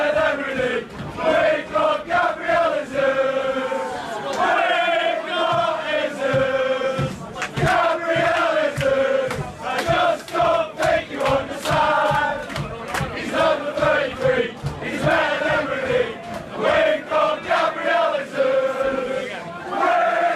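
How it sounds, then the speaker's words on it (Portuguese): Manchester City fans sing a chant for Gabriel Jesus, a loud, continuous massed crowd song with a repeating melodic line and rhythmic claps or stamps running through it. "o Gabriel Jesus empolgou tanto a torcida inglesa que já tem até uma musiquinha especial para ele"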